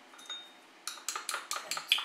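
A whole egg beaten in a bowl, a run of quick, regular clinking strokes of utensil against the bowl that starts softly and grows louder and steadier, close by with no talking.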